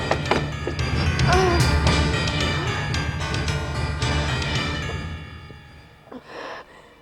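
Forceful blows against a door being broken down during a police raid in a Hindi TV drama, a run of loud whacks and thuds with clangs, dense and continuous, fading out before a final brief knock.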